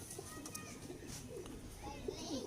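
Teddy pigeons cooing, with soft low coos repeated several times amid faint chirps and a murmur of background voices, heard at moderate distance and fairly quiet.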